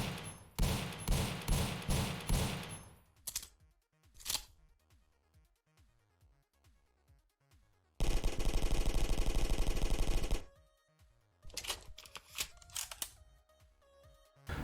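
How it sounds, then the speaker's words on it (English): Weapon sounds from the indie couch-combat video game Couch Combat: rapid bursts of gunfire alternate with sharp mechanical reload clicks and clacks, punchy and close, with brief silent gaps between shots and loading actions. "Though I'm not completely happy with the firing sounds, I really like the reload ones."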